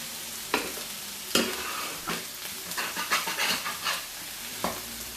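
Bubble and squeak being turned over in a frying pan, with a few scraping and flipping knocks of a utensil against the pan over a steady sizzle, close and moderately loud, no talking.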